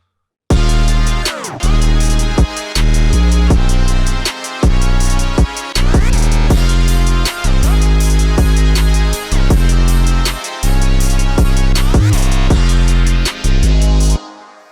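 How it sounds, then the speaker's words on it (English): A trap type beat at 160 BPM plays loudly, with deep booming bass hits and crisp percussion over a sustained melodic layer, broken by brief stops and dropouts. "let's say this type beat sounds like"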